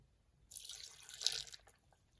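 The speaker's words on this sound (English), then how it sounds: "I'm going to add a bit of water" Water poured into a blender holding garlic and ginger, a single steady splashing pour of about a second, close and moderately loud, with no talking.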